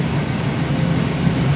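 A used car's engine idles at a steady pace, its exhaust giving a smooth, continuous low rumble without sputtering or missing, close and constant throughout.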